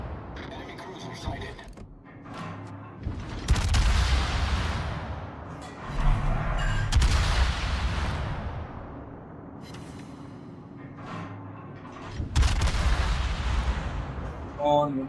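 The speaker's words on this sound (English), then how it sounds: "These shells, they feel like orbital bombardment" Warship main-battery shells in World of Warships fire in several deep, booming salvos spaced a few seconds apart, each followed by a rolling whoosh and rumble that fades before the next.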